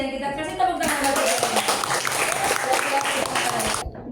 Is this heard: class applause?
yes